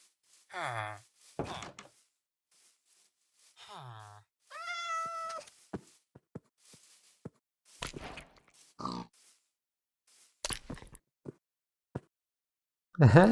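A cat in Minecraft 1.17.1 survival gives several distinct meows spread across the stretch, mixed with grunting and oink-like pig sounds, clicks and thuds, with a player speaking between them.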